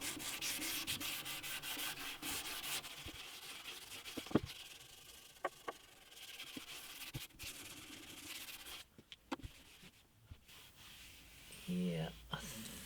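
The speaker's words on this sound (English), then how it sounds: "I do need to be very light with the sanding on this bit." Soft scratchy rubbing of hand sanding a French-polished finish on an antique parlour guitar in uneven strokes, close and quiet, broken by a few light knocks and taps.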